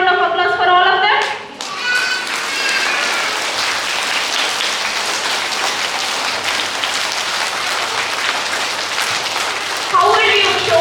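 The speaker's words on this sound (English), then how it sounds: "Can we give a big round of applause for all of them?" Sustained applause from a crowd of schoolchildren at an Independence Day celebration in a school, dense and even for several seconds, with a voice speaking just before and after.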